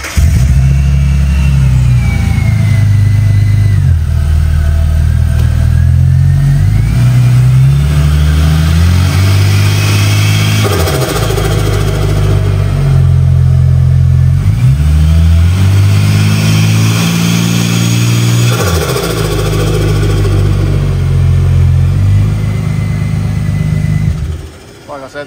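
Holden Barra engine with a dose pipe added near the header, revving repeatedly in loud rising and falling surges with an airy whooshing edge, close up and continuous.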